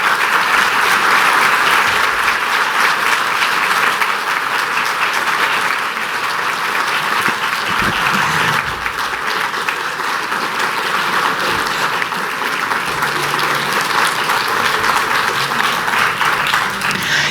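A lecture audience applauds after a talk on native plant restoration, sustained loud clapping from a large crowd that carries on evenly throughout without speech.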